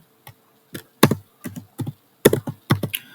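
Crisp, uneven clatter of computer keys being typed, a few quick bursts of keystrokes close by with short pauses between them.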